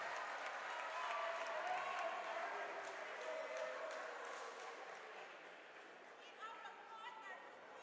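A men's basketball crowd gives a modest round of applause as a player checks out of the game, soft distant clapping and chatter in an arena that gradually settles.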